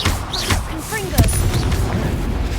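Blasting fire spell going off in the Hogwarts Legacy video game, a sudden broadband boom near the middle amid steady battle noise, with whooshing spell effects and voices around it.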